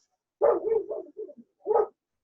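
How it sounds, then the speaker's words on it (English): Dogs bark in a few close, fairly loud bursts: a quick cluster of three or four barks, a short pause with softer yips, then one more bark on its own. No one speaks. "why do these dogs bark always when she is on here?"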